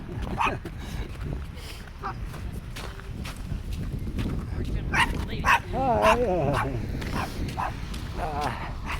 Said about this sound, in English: He's getting all worked up because somebody's coming down the sidewalk.